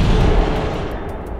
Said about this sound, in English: The Russians are trying to shoot back.